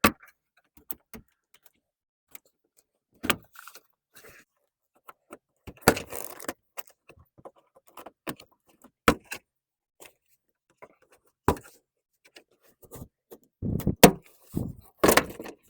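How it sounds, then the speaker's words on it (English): Plastic door panel clips being pried off a Toyota door frame: a sparse series of sharp pops and clicks, with short clattering bursts between quiet gaps, close up and no talking. "lift it right at the point so it pops from the frame"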